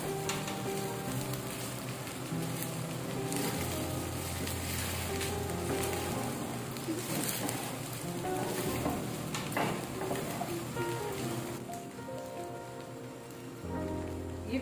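Leftover fried rice ingredients sizzle and crackle steadily in a hot pan while being stirred together, with scraping and tossing clatters over the continuous frying hiss.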